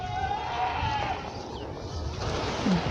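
Mixed-breed goats let out to graze on leaves in a natural setting, with a few wavering bleats early on over steady outdoor ambience and a faint murmur of voices.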